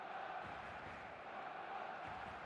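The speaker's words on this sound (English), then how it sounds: "The noise is just about reaching a crescendo here as these two sides get ready to lock horns." Faint, steady stadium crowd noise in an eFootball match, a continuous distant murmur and roar from the stands as two sides get ready for kickoff.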